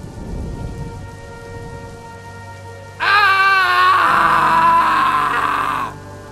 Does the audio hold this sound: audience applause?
no